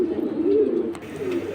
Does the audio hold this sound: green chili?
no